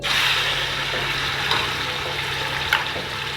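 Kaleji liver and pota offal sizzle in hot ghee, a dense steady hiss with faint crackles and an occasional sharper pop, close and continuous with no voices.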